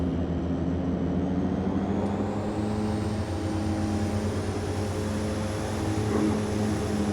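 A propeller aircraft in the Prepar3d flight simulator runs up for takeoff on the short Saba runway, giving a steady, loud engine drone with a constant tonal hum and no talk over it.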